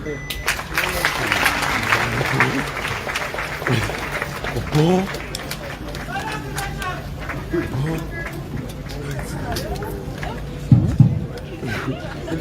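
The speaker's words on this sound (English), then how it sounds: "Another round of applause for His Excellency the President, ladies and gentlemen" A crowd at an official launch of a CT scan machine in Sierra Leone applauds after the President's speech, a sustained wash of clapping under chatter and a nearby voice speaking.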